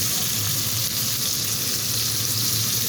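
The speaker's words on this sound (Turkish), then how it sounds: "Az yağda güzel kızartırsanız Böyle biber daha direği yeşil kalıyor" Green peppers fry in a small amount of oil in a pan, giving a steady, continuous sizzle that stays even and close throughout, with no talking.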